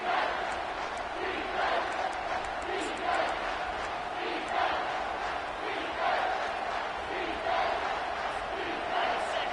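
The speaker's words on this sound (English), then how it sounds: "this crowd will blow out a vocal cord to help this defense" Football stadium crowd roaring loudly and continuously on a third down to back the home defense, a dense sustained wall of cheering and yelling with periodic swells.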